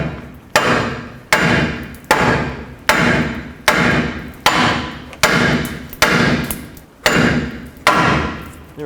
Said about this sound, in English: then I'm going to hammer on the knuckle right here